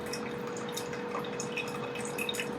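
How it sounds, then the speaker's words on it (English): Steady stream of water poured over ground coffee in a pour-over brewer at home, a continuous soft splashing trickle heard close up with no talking. "So we did that 60 gram pour"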